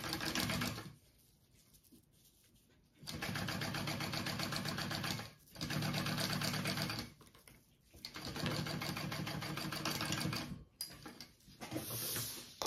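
A sewing machine top stitches a backpack pocket flap in three steady bursts of rapid mechanical stitching, each a few seconds long, separated by quiet pauses while the fabric is adjusted.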